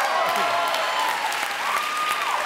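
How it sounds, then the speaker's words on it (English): Studio audience applause on a family game show, a dense, steady wash of clapping that fills the whole short stretch with no voice over it. "Shut up clapping."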